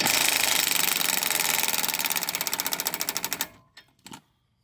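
A roughly 40-year-old Snap-on cordless impact wrench runs in a steady, loud mechanical rattle for about three seconds, its hammering pulses slowing as it winds down, then stops, followed by two brief clicks.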